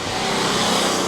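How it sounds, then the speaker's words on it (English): A noisy car passes close by on a street in Italy, making a loud, steady broadband roar that fills the whole moment with no break. "that car was really noisy"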